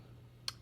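A single sharp, faint click as a button is pressed on a two-button talking atomic watch, over a low steady hum.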